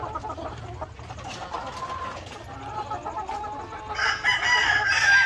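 Laying hens on a small egg farm cluck and chatter steadily while a rooster crows, growing louder and brighter toward the end, with no talking.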